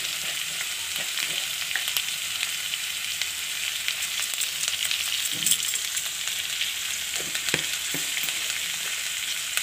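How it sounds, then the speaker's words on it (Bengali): Fish pieces coated with turmeric and salt fry in hot oil beside potato, giving a steady, close sizzle throughout with a few brief clinks and stirring scrapes scattered over it. "এটা হলদি আর নেবো মিশিয়ে কভার করে ফ্রাই করে নেবো"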